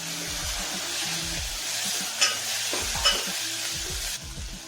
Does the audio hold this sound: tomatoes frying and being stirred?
yes